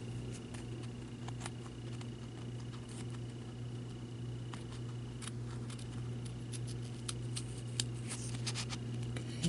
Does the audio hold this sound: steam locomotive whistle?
no